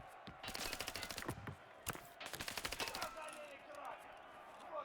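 Rapid bursts of video game gunfire crackle in dense, rhythmic volleys with a sharp blast between them, loud and close, while a commentator talks over the action during a tournament match.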